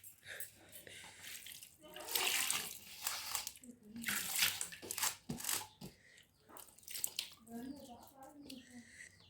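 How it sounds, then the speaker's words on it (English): Water is poured into a cooking pot during village cooking in Africa, coming as loud, close gushing splashes in several uneven bursts, with people talking nearby between and over the pours. "Add water."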